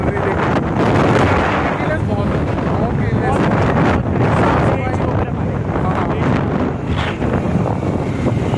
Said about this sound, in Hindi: यहाँ पे यार बहुत सही हवा चल रही है